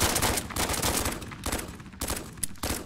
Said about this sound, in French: Je vais essayer le fusil à pompe.